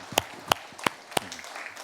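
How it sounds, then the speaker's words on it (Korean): A handful of claps ring out in a church during a Wednesday worship service, four sharp, evenly spaced hand claps over a quiet room, sparse and fairly faint rather than a full ovation. "하나님께 영광의 박수 올려드리겠습니다"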